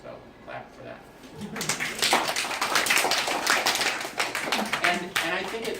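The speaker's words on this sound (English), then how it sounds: "So clap for that" A small audience at a celebration bursts into steady, close applause after a quiet moment, the clapping swelling and holding through to the end, with some voices mixed in.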